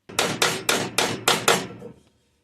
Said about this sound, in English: I'm going to use kind of the edge of the hammer, and I'm just going to tap these high spots down so they're nice and even.